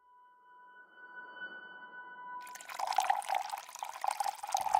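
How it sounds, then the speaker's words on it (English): Water splashing and gurgling in a video game, starting after a steady synthetic tone and growing louder and busier toward the end, heard alone without talk. "those water sounds."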